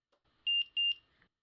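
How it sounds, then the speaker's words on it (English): Two short, high-pitched electronic beeps in quick succession from an APTMAPT MagSafe Find My tracker wallet turning off, clear and close, with near silence around them. "You will hear 2 beeps as it turns off"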